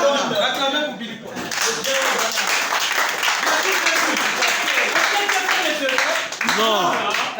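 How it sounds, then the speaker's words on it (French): Audience applause at a live event, a continuous wash of clapping from many hands that sustains throughout, with voices and cheering mixed in. "Acclamez"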